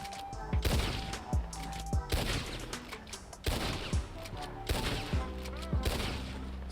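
Lancaster repeater rifle from Red Dead Redemption 2 firing a rapid string of sharp, loud shots in a steady rhythm, each crack followed by a short ringing tail, with no talk over it.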